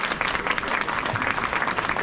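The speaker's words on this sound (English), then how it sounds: "Let's give a big applause to Mr." Audience applause at the Coral Academy end-of-year school awards celebration in Las Vegas, a steady, crowded patter of clapping hands that fills the hall without pause.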